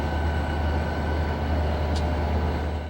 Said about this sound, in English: two SD40-2s sandwiching a GP40-2 coming into the yard